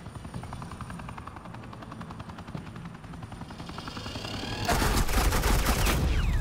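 Suppressing gunfire in a Batman video game: a steady rapid rattle of automatic fire runs under rumbling noise, then swells into a louder, denser burst of shots for the last two seconds.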